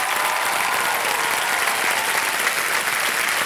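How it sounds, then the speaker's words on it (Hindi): A TV quiz show studio audience breaks into loud, continuous applause, a dense even wash of clapping from many hands that holds steady throughout. "तालियां बजती रहे"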